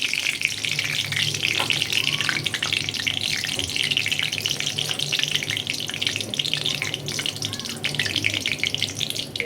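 Bay leaves, cinnamon, cardamom, cloves and fennel seeds fry in hot oil for a Bengali crab curry, giving a steady bright crackle and sizzle with a few faint scrapes.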